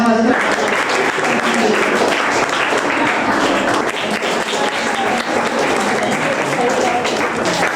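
A dense wash of audience clapping fills the whole stretch at a school welcome ceremony, steady and fairly loud, with speech running underneath.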